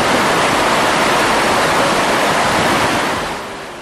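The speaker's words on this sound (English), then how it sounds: "14 cascades tumbling over 80 meters into a cloudy mist as they hit the frothing water below" Iguazu Falls roars at the Devil's Throat, where fourteen cascades plunge over 80 meters into frothing water, a dense, loud, continuous rush of white water that eases slightly at the end.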